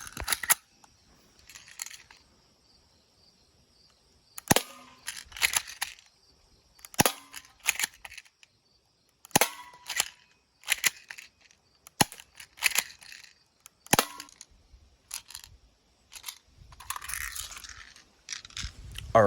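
Walther PPQ airsoft pistols firing BBs, one loaded with .12s and another with .25s, giving a string of sharp, snappy cracks spaced a second or two apart, close and loud, with quieter handling clatter between shots.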